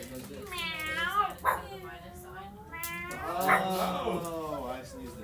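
A person's voice imitates a cat, giving several drawn-out, wavering meows close to the microphone. Each one rises and falls in pitch, with short pauses between them.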